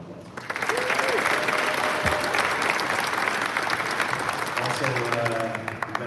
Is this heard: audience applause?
yes